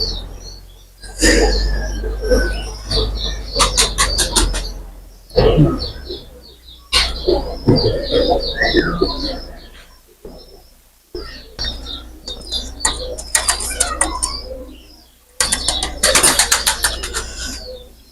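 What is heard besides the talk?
Pakistani pigeons cooing in a loft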